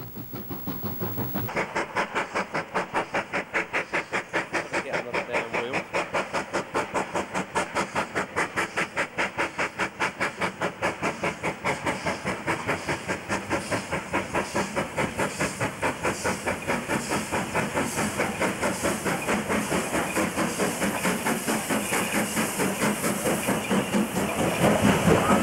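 Australian steam locomotive 3638, running near Wellington, chuffs with loud, steady, rapid exhaust beats over continuous hissing steam, close by and unbroken throughout, with no voices.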